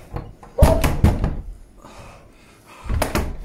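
A door being forced, banging hard in a few loud close thumps with rattling in between, then another heavy bang near the end, with no voices.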